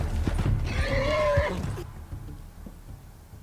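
A horse whinnies once, a rising and falling neigh near the start, with soft hoof clops and creaks around it before it fades into quiet background.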